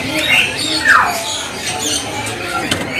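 An adult Javan pied starling gives loud, harsh squawks and a descending whistled call, close by, with other bird chatter around it at a bird market stall.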